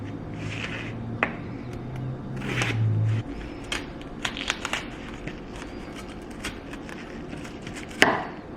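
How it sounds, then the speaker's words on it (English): Knife chopping potatoes and mushrooms on a cutting board: scattered, irregular sharp taps over a steady background hum, close and moderately loud, with no talk. "Here are the veggies that I just cut up. So we did potatoes, mushrooms,"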